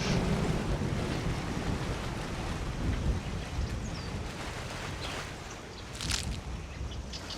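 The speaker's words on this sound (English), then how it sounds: "It's a good waterfall, this" A waterfall in Skyrim roars as a loud, steady broadband rush of falling water, constant throughout with slight swells and no voices.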